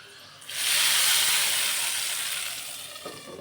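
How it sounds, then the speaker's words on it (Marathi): Hot tempering poured over palak paneer in a kitchen bursts into a loud, broad sizzle that swells quickly, then slowly fades as it settles, with no talking over it. "आता आपण ही जी फोडणी आहे ती या भाजीवरती टाकून घेणार आहोत मस्त अशी खमंग फोडणी"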